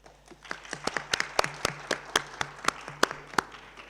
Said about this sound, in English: May I ask you all to give a round of applause in recognition of the excellent statement that our distinguished speakers have made.